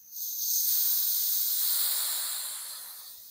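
Air hisses steadily out of the valve on a RockShox Pike suspension fork, a close, bright hiss that swells in quickly and holds, then tapers gently toward the end.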